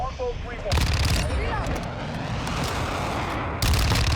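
Rapid automatic gunfire rattles in a first-person shooter video game, loud bursts at the start and end framing a stretch of denser shooting in between.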